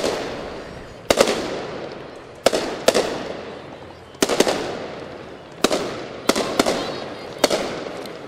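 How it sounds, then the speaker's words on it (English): Fireworks go off at a Christmas parade in Joliet: sharp bangs and cracks about every second or two, some in quick pairs, each trailing off into a rumbling decay over steady crowd and street noise. "I think he gathers up all the fireworks that he did not use through the summer, and they put it all in this parade."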